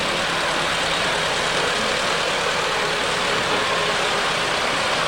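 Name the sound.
vintage tractors chugging at a threshermen show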